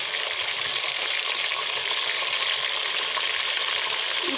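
Sliced meat frying in garlic ginger paste gives a steady, loud, dense sizzle that stays even and continuous throughout, with no talking.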